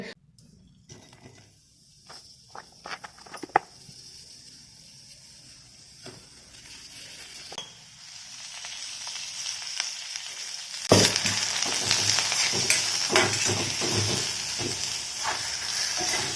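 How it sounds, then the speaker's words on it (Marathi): Dried coconut and masvadi filling roast in a pan with a soft, steady sizzle that swells louder partway through and stays strong to the end, with no talking. "भाजून घेऊया हे सर्व साहित्य आपल्याला मासवडीचा रस्सा बनवण्यासाठी लागणार आहे"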